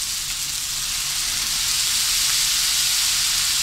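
Japanese soy sauce sizzles in hot oil, a steady loud hiss with a broad bright crackle that holds evenly throughout.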